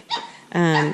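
A young dog lets out a short yip followed by a higher, drawn-out whiny bark, close by, with no talking.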